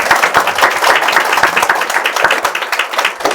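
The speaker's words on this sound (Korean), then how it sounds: "박수로 시작해보죠" A small lecture audience claps at the start of a Chinese-language class, with close, distinct and slightly uneven handclaps that continue throughout.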